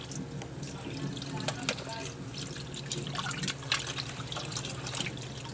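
Tap water runs steadily into a sink while cut pieces of fish are washed for a fish soup, with drips and splashes throughout, close and moderately loud, and no one talking.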